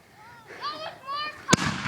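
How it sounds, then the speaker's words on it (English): Firecrackers set off at a family picnic, with a single sharp crack near the end following excited voices and whooping. "we're actually launching off the firecrackers now."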